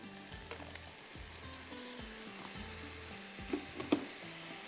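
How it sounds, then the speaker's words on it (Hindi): Ground masala sizzles and fries in a pan with boiled mutton, a steady loud crackle broken by repeated scraping stir strokes and a couple of sharp spatters near the end. "और इसको बहुत अच्छे से भूनना है"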